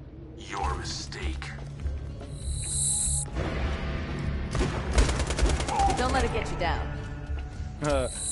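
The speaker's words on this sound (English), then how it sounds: "Your damn machine gun." Rapid machine gun fire in Borderlands 2 rattles out in a quick burst midway through, mixed into a busy bed of other game noise and a low hum.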